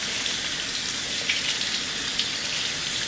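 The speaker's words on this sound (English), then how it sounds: "I'm just going to run it under some cold water for about 15 seconds." Cold tap water runs steadily over chopped onion in a colander, a continuous close hiss and splash of flowing water with no talking.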